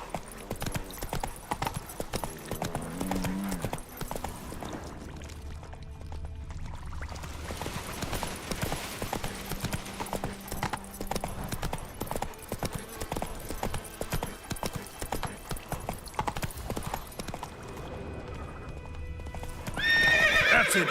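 Roach, a horse in The Witcher 3, gallops with rapid rhythmic clip-clop hoofbeats that run nearly continuously, with a whinny partway through and a louder burst at the end.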